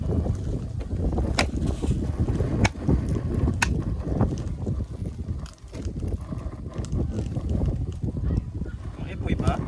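Strong wind buffets the microphone outdoors during a windy-weather meal, a constant heavy roar with gusts, while people talk faintly underneath.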